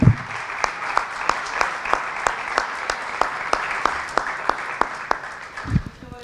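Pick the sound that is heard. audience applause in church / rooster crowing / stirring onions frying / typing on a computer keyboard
audience applause in church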